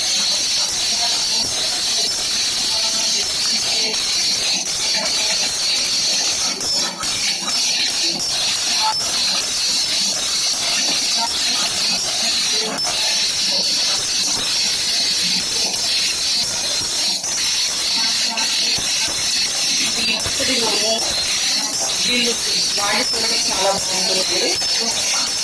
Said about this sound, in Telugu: అది వేగిన తర్వాత ఎండు మిర్చి వేసుకుంటున్నామండి